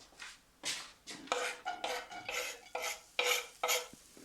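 Onions are stirred in a pan with a few spoonfuls of oil, heard as rhythmic, scraping strokes of a utensil against the pan surface, close and fairly crisp.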